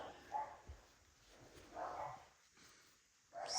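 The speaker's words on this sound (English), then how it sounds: "the dogs are barking" Dogs bark indoors in a few muffled, separate bursts at a moderate distance, with quiet gaps between them.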